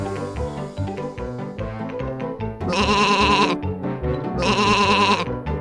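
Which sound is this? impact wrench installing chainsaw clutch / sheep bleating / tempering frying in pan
sheep bleating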